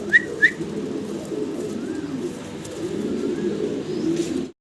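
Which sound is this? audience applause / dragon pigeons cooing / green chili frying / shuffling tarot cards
dragon pigeons cooing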